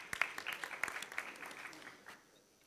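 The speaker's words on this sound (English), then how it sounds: "A round of applause, please, for Dr." Audience applause at a business conference in Abu Dhabi, a scattered round of claps from the hall that fades toward the end, with no talk over it.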